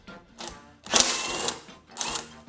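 A 10mm bolt comes off the shroud of a Honda HRR216K9VYAA mower, a close mechanical whirring and ratcheting in three short bursts separated by brief pauses.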